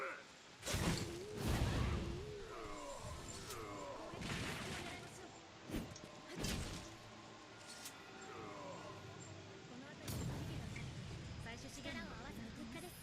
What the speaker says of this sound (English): It's like a bloody explosion.